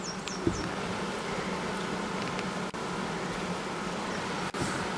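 Honey bees buzzing steadily nearby at a hive, a continuous droning hum with a few faint chirps and a soft background murmur.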